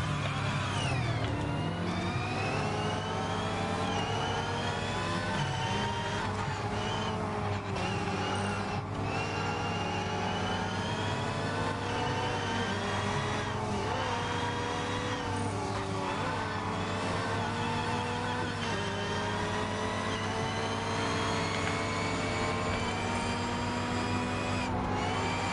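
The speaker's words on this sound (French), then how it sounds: "j'entends plus le moteur des autres que le mien" Several car engines from the racing game Test Drive Unlimited Solar Crown drone and rev steadily for the whole stretch, a dense, continuous motor roar with shifting pitch, loud and without talk.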